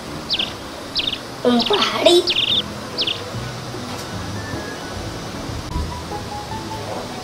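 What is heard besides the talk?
small bird chirping in a patio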